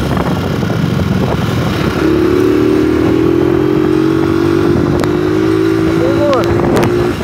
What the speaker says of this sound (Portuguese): a moto ainda tá correndo.